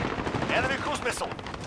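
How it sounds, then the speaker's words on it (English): Gunfire in the shooter game Call of Duty Modern Warfare, a rapid crackling spray of shots mixed with game effects, fairly close and continuous through the short stretch. "Taking fire."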